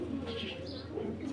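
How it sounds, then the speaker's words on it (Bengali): Dragon-bloodline pigeons of an original club line coo softly and steadily nearby, a low murmuring drone with faint chirps above it and no talk. "এটা হলো অরিজিনাল ড্রাগন কবুতর"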